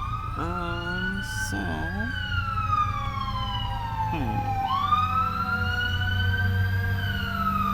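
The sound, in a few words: fire engine siren passing by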